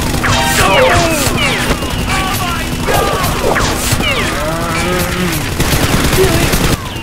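Rapid gunfire bursts in an action scene from a Spider-Man animated film, sharp repeated shots under shouting voices and chaotic crashes, with a steady hum beneath.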